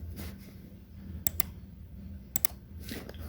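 A computer keyboard gets a few quick keystrokes, two pairs of sharp, close clicks spaced about a second apart over a quiet, low background hum.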